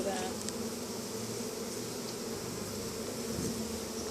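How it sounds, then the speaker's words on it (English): Honeybees swarm thickly over a hive frame during an inspection, making a dense, steady buzz that fills the whole stretch, close and even in loudness. "A lot of bees on this one."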